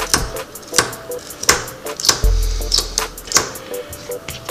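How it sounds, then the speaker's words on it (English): A kitchen knife chops Swiss chard leaves on a cutting board for a Dutch oven stew, giving a steady run of sharp, close taps about every half second, with a low hum underneath. "We'll cut the leaf away."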